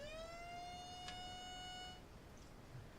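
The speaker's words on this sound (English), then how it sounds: "don't be alarmed by that little siren that you just heard. What that was actually a new tornado warning" A short, steady electronic tornado warning siren tone sounds for about two seconds, then stops, leaving quiet background noise.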